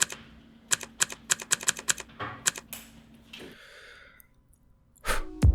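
Keys clacking on a Logitech MX Keys keyboard, close and crisp, a run of quick distinct keystrokes in uneven rhythm, followed by a quieter stretch and a brief louder rustle at the end, no speech.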